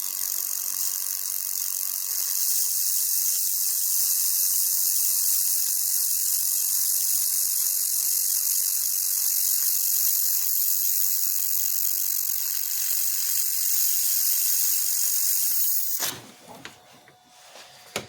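An Xlaserlab X1 Pro laser welder runs continuously, a loud steady high-pitched hiss and whine that cuts off abruptly near the end, leaving quiet clicks.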